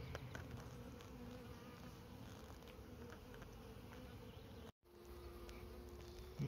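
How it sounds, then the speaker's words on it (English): Honey bees buzz inside a mating nuc, a small hive box holding a queen cell, making a dense, steady close-up hum with faint individual wingbeats, briefly interrupted by a short silent gap. "This is how many frames of bees there are in there."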